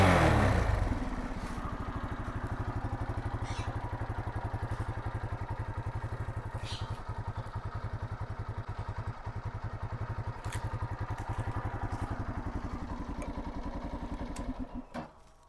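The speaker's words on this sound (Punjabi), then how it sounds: "ਜਦੋਂ ਆਪਾਂ ਰੇਸ ਦਿੰਨਾ ਤਾਂ ਥੋੜੀ ਵਾਈਬ੍ਰੇਸ਼ਨ ਸ਼ਾਇਦ ਸੁਣਨ ਨੂੰ ਮਿਲ ਰਹੀ ਹੋਊ ਉਹ ਆ ਜੀ ਇਹਨਾਂ ਪੈਨਲਸ ਦੀ" A Hero Honda Karizma R motorcycle idles close by with a steady, even engine thrum, and its body panels add a rattling vibration before the engine cuts off near the end.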